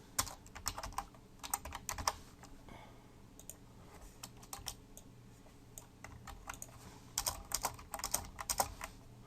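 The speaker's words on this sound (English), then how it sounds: "let me just type all these out first" Steady typing on a computer keyboard, with bursts of quick clicky keystrokes separated by brief pauses, moderately close and with no voices.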